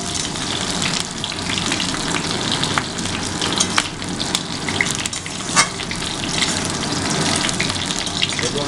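Potato and cauliflower pieces sizzle steadily in hot oil for an aloo phulkopi dalna, with faint scraping as they are gently stirred; the hiss is dense and continuous throughout, with no voices.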